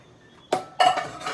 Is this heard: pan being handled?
yes